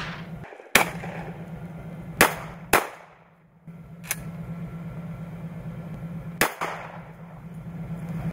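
Several sharp shotgun blasts ring out during a quail hunt, spaced irregularly over a steady low engine-like hum, each crack loud and close with a brief decay.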